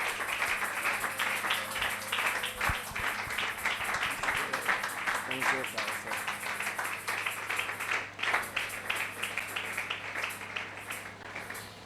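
Sustained applause from a church congregation at a Sunday worship service welcoming the apostle, many hands clapping steadily for several seconds in a reverberant hall, with a faint voice beneath.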